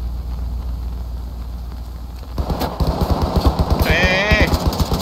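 F90 rifle fire in the video game Ready or Not begins midway as a quick series of close, rapid shots, following quieter ambient game sound, with a voice briefly heard near the end.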